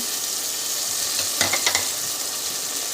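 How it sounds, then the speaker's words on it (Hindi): Tomatoes and yogurt are added to browned onions in a hot pan, giving a loud, even frying hiss with a few brief spattering pops in the middle. "अब इसके अंदर अब हम टमाटर डालेंगे, साथ में हम दही भी डाल देंगे"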